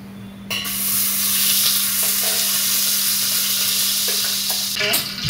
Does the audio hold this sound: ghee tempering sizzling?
yes